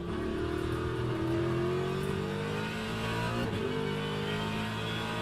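A GT3 race car in the Le Mans Ultimate racing game drones loudly at high revs, with a guttural tone and pitch steps as it works through gear shifts, close and continuous, no talk.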